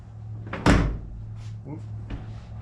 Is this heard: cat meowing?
no